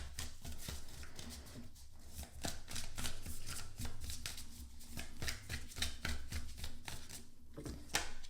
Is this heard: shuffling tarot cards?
yes